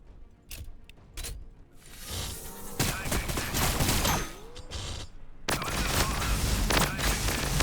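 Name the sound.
Basilisk Earthshaker artillery barrage in video game Warhammer Battlesector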